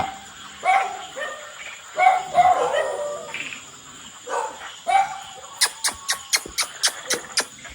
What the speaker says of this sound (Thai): เห่าทำไมลูก เห่าทำไม